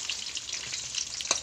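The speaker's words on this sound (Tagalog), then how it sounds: "piniprito yung kulo dito." Breadfruit (kulo) fries in a pan with a steady close crackling sizzle and scattered pops, one sharper spatter near the end, and no voices.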